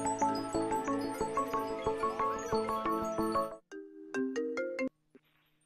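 A phone ringtone plays a bright repeating melodic tune for a few seconds, stops briefly, then sounds a shorter ringing phrase before cutting off, loud and close with no talking.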